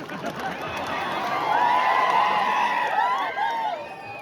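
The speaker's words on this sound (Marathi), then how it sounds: "यासाठी जोरदार टाळ्या होईल पाहिजे" Crowd noise at a live stage show, a broad sustained roar of clapping and cheering with whoops on top, loud and continuous throughout.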